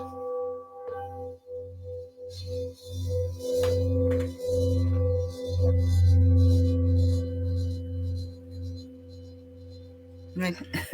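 Matching singing bowls struck and left ringing, their steady sustained tones layered and pulsing, with further soft strikes and shimmer building over several seconds before a final sharper strike near the end.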